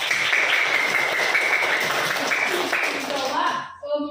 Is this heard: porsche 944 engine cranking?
no